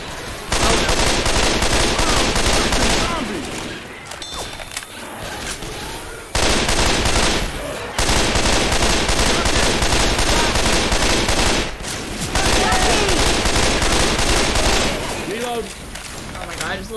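Sustained bursts of automatic gunfire in Left 4 Dead, loud and close, firing in long continuous stretches broken by brief pauses, with people talking underneath.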